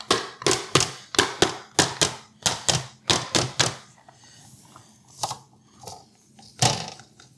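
Cake pan knocked on its bottom to free the cake, a run of sharp, hollow thumps in quick pairs, then a few scattered single knocks after a pause.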